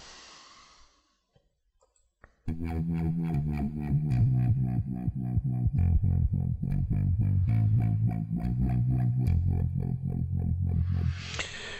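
After a brief quiet, a gritty distorted synthesizer built from a sawtooth and a sine wave kicks in, looping a pulsing buzzy pattern with steady rhythmic notes throughout.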